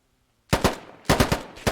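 Short automatic gunfire bursts in a low-poly tactical shooter game, two quick loud volleys of a few rapid shots each after a brief quiet start.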